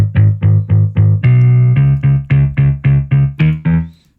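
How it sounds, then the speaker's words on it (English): Heavily saturated, distorted bass guitar plays a punchy run of repeated notes, one note held longer in the middle, loud and up front. "I used the black box saturation, aggressive bass guitar."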